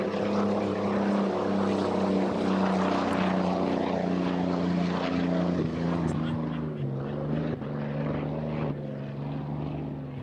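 The Miss US 4 U-36 hydroplane race boat at the APBA Gold Cup, a loud sustained engine whine with shifting harmonics as it runs on the water, commentators talking over it.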